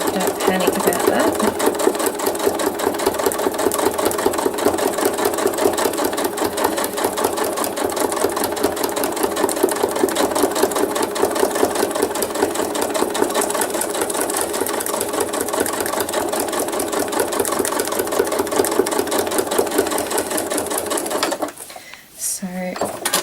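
Sewing machine stitching thread art, running steadily and loudly over thick layers of thread with a rapid mechanical clatter and popping, stopping briefly near the end.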